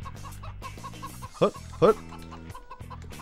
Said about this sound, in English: Chickens! I need your eggs.